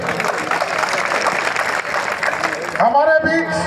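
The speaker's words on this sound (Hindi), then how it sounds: "एक बार जोरदार ताली बजाकर इनका अभिनंदन करें।" A crowd at a public political rally claps, sustained applause at moderate distance that swells and continues while a voice over a loudspeaker begins at the end.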